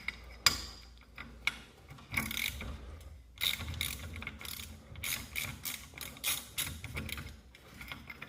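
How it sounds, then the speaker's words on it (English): A wrench ratchets while loosening set screws on a garage door torsion spring drum, with close, faint bursts of clicking and metallic ticks and short pauses between turns. "Then you can go ahead and loosen up"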